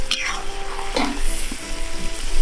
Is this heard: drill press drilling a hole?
no